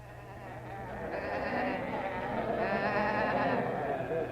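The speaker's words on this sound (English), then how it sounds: "isn't that a pretty sheep there?" Sheep bleat in a pastoral scene, a sustained wavering cry that rises in two swells over a steady background bed, moderately loud and without talk.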